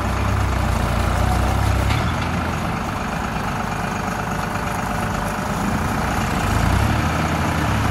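A Same Dorado 65 tractor engine runs loud and close, a heavy diesel drone with throaty low rumble that rises and swells as it is revved, steady for several seconds.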